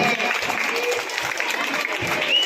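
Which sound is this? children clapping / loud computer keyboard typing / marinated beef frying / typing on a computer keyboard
children clapping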